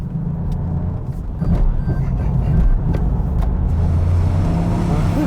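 A Toyota Yaris driven hard around a race track gives a steady, loud low engine drone that swells slightly partway through, with faint tyre and mechanical noise on top.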